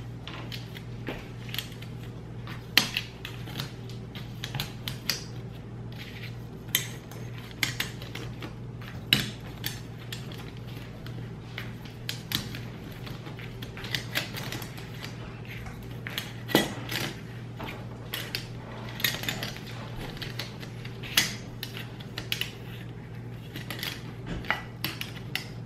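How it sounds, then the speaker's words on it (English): Metal mason jar lids clink and rattle while being gathered for a pumpkin-shaped fall craft, a steady run of small light metallic taps and scrapes over a constant low hum, with no talking. "you're going to need 24 mason jar lids"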